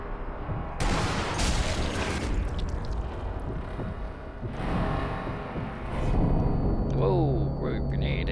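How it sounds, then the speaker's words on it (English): In the video game Sniper Elite V2, grenades burst with heavy booms that mix with gunfire, then a rumbling aftermath follows, all loud and close, with a player talking over the action. "I think they're just throwing grenades at me."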